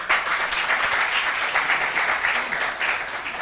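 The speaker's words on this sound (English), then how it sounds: "Please, a round of applause for them." An audience at a school quiz competition applauds a team in a steady, dense round of clapping that continues evenly throughout, with no one talking over it.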